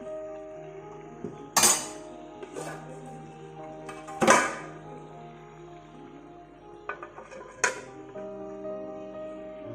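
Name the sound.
lid being put on a pot of chicken curry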